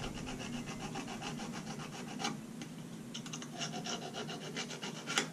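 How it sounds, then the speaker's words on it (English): A hand file cuts and shapes a metal bead on a trophy buckle, giving a steady, close scraping rasp with rhythmic strokes and a few sharper scratches, no talk. "I just take a file and I kind of make a cut through there, shape it"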